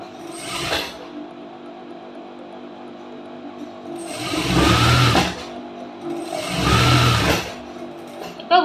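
A tailor's sewing machine stitches around a blouse lining in two sustained whirring runs after a short opening burst, close and loud with quiet gaps between.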